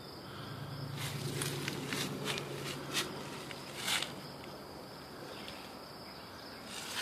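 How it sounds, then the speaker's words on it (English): A dense outdoor chorus of cicadas swarming over trees, with a continuous high buzzing drone and several louder pulsing bursts rising over it. "Here is evidence of the cicada invasion."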